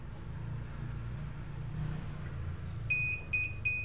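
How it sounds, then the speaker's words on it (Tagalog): Three short, high electronic beeps from a CCTV system with no display signal, in a steady rhythm, sounding over a low constant hum. "Nagbibip siya after kumana yung monitor."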